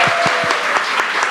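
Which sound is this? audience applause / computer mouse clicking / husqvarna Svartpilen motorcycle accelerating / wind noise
audience applause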